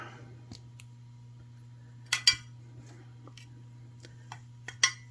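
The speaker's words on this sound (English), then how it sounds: "Get my cutters, cut my wire" Wire cutters snip jewelry wire during necklace making, giving a few sharp, crisp clicks spaced seconds apart over a steady low electrical hum in a quiet room.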